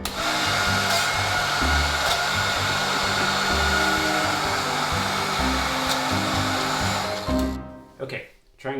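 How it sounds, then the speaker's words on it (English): Fan and oscillation motor assembly running on a rose-petal-shooting robot, a loud steady blowing whir with a pulsing low hum, cutting out near the end. "I've got the fan and the oscillation motor connected together."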